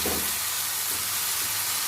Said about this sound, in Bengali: এবারে এই তেলের মধ্যে মুগ ডালটা হালকা করে ভেজে তুলে নেব।